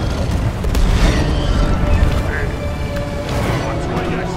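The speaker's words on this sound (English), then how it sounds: "Explosives, fire!" Explosives detonating in Deep Rock Galactic, Magma Core mission: loud rumbling booms and crackling blasts layered over continuous dense game noise and chaotic combat sounds.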